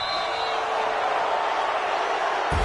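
A stadium crowd in a PS4 football video game roars as a broad steady wash of noise, loud and continuous, ending with a brief thump.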